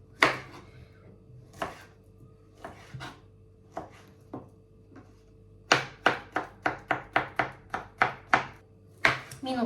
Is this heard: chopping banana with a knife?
yes